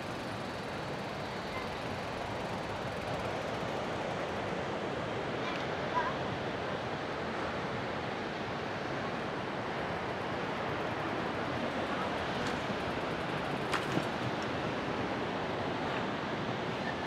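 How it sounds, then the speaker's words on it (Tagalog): Waves roll onto Timalan beach in Naic, Cavite as a steady, broad wash of surf, continuous and fairly close, with no distinct breaks between swells and a faint windy hiss. "ang dagat ng Simalan."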